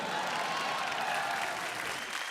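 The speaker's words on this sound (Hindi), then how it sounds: "जोरदार तालियां नसीम और पूजा के लिए" A studio audience at a televised comedy show breaks into steady, dense applause, with many hands clapping evenly throughout and no voices over it.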